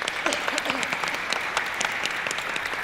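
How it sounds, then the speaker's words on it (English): Audience at a panel discussion applauds with brisk, crackling claps, loud and close, while a voice briefly carries underneath near the start. "worthy of a round of applause on that as well"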